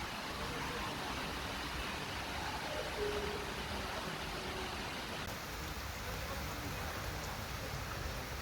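First rain showers after a hot spell in Algiers, a steady, even hiss of rainfall on surfaces outdoors, continuous and fairly soft with faint background traffic.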